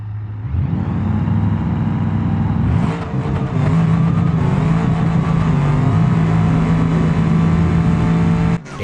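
A ProCharged Grand Marshal drag car roars through a full pass, its supercharged engine loud and close, revving up sharply, shifting once, then holding a sustained high, steady drone until it cuts off abruptly.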